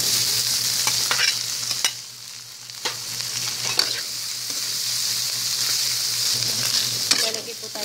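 Ground pork sautéing with onion and garlic in a hot pan, a continuous close sizzle broken by several sharp stirring scrapes, with no speech over it.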